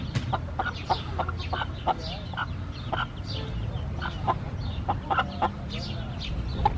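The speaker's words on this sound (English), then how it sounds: "Oh, look at the roosters." Roosters and young chicks cluck and peep inside a bird coop, a steady scatter of short calls over low rumbling background noise, with a person talking at times.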